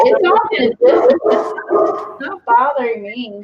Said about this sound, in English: I am really sorry about the barking